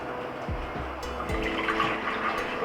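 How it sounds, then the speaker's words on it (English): About 2 cups of water pour and splash into an Instant Pot Ace pressure cooker, a short continuous stream with faint metallic clinks, no voices. "I have about 2 cups of water here."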